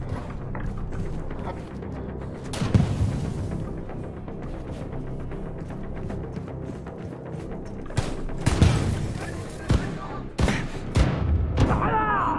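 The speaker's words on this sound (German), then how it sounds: "Ich höre drei Schüsse und bin tot." Gunfire in the video game Wolfenstein 2: The New Colossus, a few sharp shots and booms scattered among mechanical game noise and a steady ambient bed, with sharper bursts clustered toward the end.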